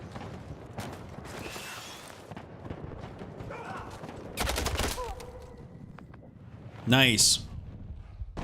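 Battlefield video game gunfire: scattered sharp shots and short bursts, fairly quiet, with a louder crack late on, mixed with mechanical clatter and a brief spoken word.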